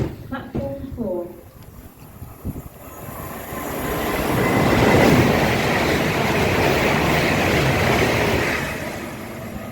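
A London Northwestern Railway train roars fast through a station without stopping, a loud rushing swell with rail clatter that builds and holds after a brief spoken platform announcement at the start.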